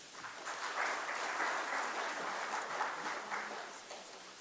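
An audience at an SME regional summit in Coimbatore applauds after a speech, with a dense, steady burst of clapping lasting a few seconds before slowly fading.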